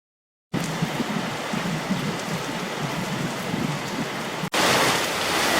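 Heavy rain pours steadily, a dense, even hiss of drops drumming on surfaces that stays loud and continuous after a brief silence at the start, with a short dropout near the end before it resumes.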